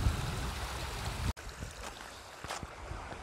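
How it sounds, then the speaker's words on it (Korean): Flowing water beside a campsite on a spring day, a loud rushing roar that cuts off abruptly partway through, leaving quieter ambience with a few faint knocks. "이 물소리가 너무 커가지고 잠을 못 자겠어요"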